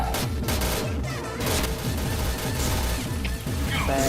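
Gunfire rings out in the online shooter PointBlank, loud, rapid repeated shots layered over busy game sounds, with short gaps between bursts.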